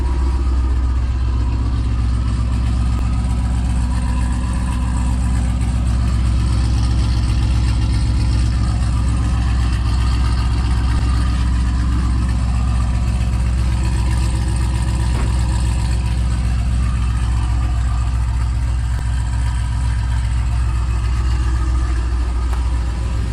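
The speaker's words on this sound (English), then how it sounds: "you just heard the first fire up of the entire system from Kooks on Brett's SS" A 2017 Chevy SS engine with Kooks headers and exhaust idles loudly at first start-up with a deep, rumbling, uneven exhaust, steady and close for the whole stretch with no voices.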